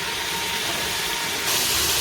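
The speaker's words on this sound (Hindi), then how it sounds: "इसे 3 से 4 मिनट के लिए अच्छे से हम फ्राई करेंगे" Mutton pieces frying in a pan, a constant dense sizzling hiss that swells slightly louder toward the end, with no voices.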